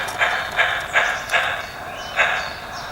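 Model light railway locomotive number 10 drawing to a gentle halt, heard as a steady running rumble with a few evenly spaced soft clicks or clacks from the track, moderately close, no voices.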